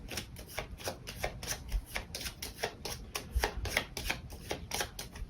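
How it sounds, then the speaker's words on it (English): A deck of playing cards being shuffled by hand during a solo tabletop game of Terraforming Mars: Ares Expedition, a continuous run of rapid riffling flutters and soft slaps, close and steady with no voices. "We're going to draw up our opponent's hand and shuffle those cards."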